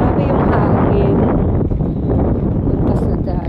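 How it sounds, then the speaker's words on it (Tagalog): Strong wind buffets the microphone at a seashore, a dense, steady roar that runs the full length without pause. "Grabe yung hangin."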